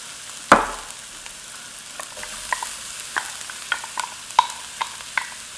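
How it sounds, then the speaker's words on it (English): Onions and jalapeños cook in olive oil with a steady soft sizzle, while a spoon scrapes and taps the pan in a run of sharp, irregular clicks. A louder clatter comes near the start. No one speaks. "we're going to be using that to cook down our onions and our jalapeno"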